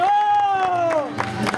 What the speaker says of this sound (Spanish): fuerte el aplauso para los payasos